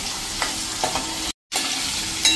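Fresh green pigeon peas sautéing in oil for a brinjal curry, a steady close sizzle with light stirring scrapes, broken by a brief total dropout before the frying sound resumes.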